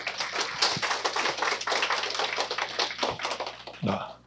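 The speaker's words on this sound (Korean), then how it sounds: "그럼 큰 박수로 맞아주시기 바랍니다" Audience applause at an international academic seminar on integrative medicine, welcoming a Tokyo university professor to the podium: dense, steady clapping from a crowd lasting several seconds, with some murmuring voices mixed in.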